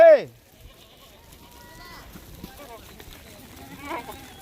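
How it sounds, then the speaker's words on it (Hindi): Rajanpuri goats in a crowded pen, one loud close bleat at the start followed by fainter scattered bleats from the herd, with distant rustling and someone talking in the background. "इतनी खूबसूरत लाट है बकरों की"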